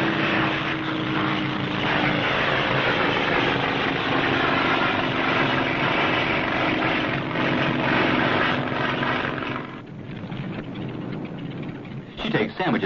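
A propeller plane drones steadily and loudly through most of the stretch, a continuous engine roar for a daily 300-mile flight up north in 1964, easing slightly near the end.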